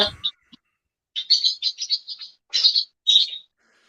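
Several bursts of high, bright chirps and twitters from pet birds, close by, in quick clusters with short pauses between them, no talking.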